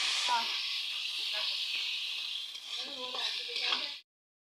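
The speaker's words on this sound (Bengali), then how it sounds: "মাংসটাকে একেবারে ভাজা ভাজা করে নিচ্ছি" Broiler chicken pieces fry in a pan with ground cumin, ginger, coriander and cardamom, giving a loud, continuous sizzle and hiss that stops abruptly near the end, with a faint voice in the background.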